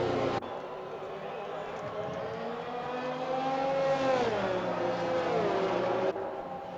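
Racing cars lined up behind the safety car in a racing video game, their engines holding a steady, rising and falling drone, with a voice talking over them.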